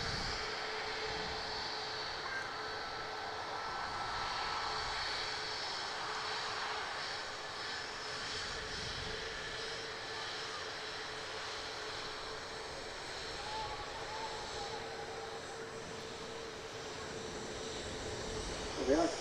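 A jet engine runs up in the engine run-up bay at Manchester Airport beside a parked aircraft: a steady, loud broadband roar with a persistent whine, continuous for the whole stretch.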